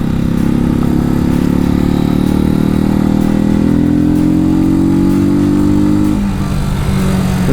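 A Janus Motorcycles Phoenix 250 hums steadily under a rider at a constant mid-pitched drone, then the engine note drops sharply as the rider eases off near the end.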